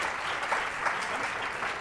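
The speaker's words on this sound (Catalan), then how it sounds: "Aplaudiment." Studio applause on a local TV word-game show, a brief burst of many hands clapping at moderate volume, even and continuous with no speech over it.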